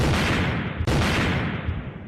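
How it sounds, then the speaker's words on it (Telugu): A mobile phone bursts like a bomb, a loud, harsh blast of dense crackling noise that carries on with a brief dip midway, with no speech. "బాంబు వేలినట్టే పేలింది పో ఫోను"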